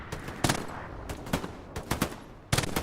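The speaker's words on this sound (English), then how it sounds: "Letting off some warning shots." MG42 machine gun in Hell Let Loose fires several short, sharp bursts of warning shots, spaced irregularly with quiet gaps between, moderately loud against low background noise.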